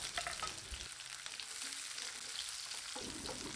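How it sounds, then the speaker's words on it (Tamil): Quiet, steady sizzling of mustard seeds spluttering in hot oil in a pan, with faint crackling pops, no voices. "கடுகு பொரிகிறது"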